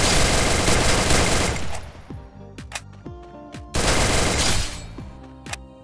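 Rapid bursts of MP40 submachine gun fire in the mobile shooter Free Fire, two long, loud, dense strafing volleys separated by scattered single shots and clinking shell or impact sounds.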